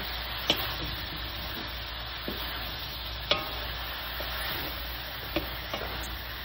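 Pancit canton noodles frying in a pan while being stirred: a constant close sizzle with occasional sharp utensil taps against the pan, no talking.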